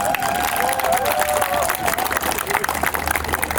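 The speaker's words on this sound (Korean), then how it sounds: "큰 박수 한번 보내주시기 바랍니다" Crowd applause at the opening ceremony of the 33rd Guri mayor's cup amateur football tournament: a steady wash of clapping and crowd noise that fills the whole moment, with an announcer's voice over it.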